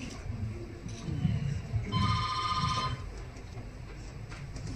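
Telephone ringing in an office during a comedy skit about a town planning department: one electronic ring of about a second sits under low room murmur and nearby voices.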